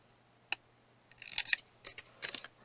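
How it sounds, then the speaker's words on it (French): Scissors snipping through glued cardboard while making a DIY storage tower, a few short crisp cuts close by, the first alone and then a quicker cluster of snips, in a quiet room. "Donc je vais tout simplement venir couper ici."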